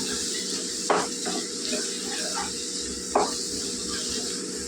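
Chili powder fries in a pan of prawn curry with a steady, close sizzling hiss throughout, and two brief stirring scrapes rise above it.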